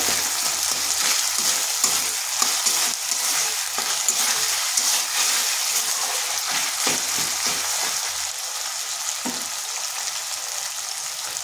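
Paneer and powdered spices (turmeric, cumin, coriander, chilli) frying in a pan, a steady close sizzle with repeated scraping and stirring strokes throughout, no talking.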